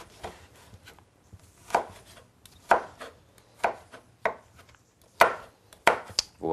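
A knife chops aubergine and courgette into dice on a board, about eight distinct sharp cuts at an irregular pace, close and clear, with no talking.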